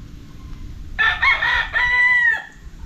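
A Joe Black bullstag rooster, a one-time derby winner, crows once loudly and nearby, a long wavering call of about a second and a half that rises then trails off, set against a quiet yard.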